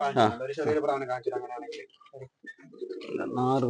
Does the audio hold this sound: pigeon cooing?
yes